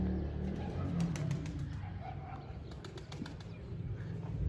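A white pigeon flies in near a catching net, with soft wing flaps and faint cooing over a low outdoor rumble.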